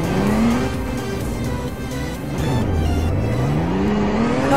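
A tow truck engine drones steadily as it drives in the Roblox Liberty County game, its pitch rising, dipping, then climbing again with acceleration and gear changes, loud and continuous.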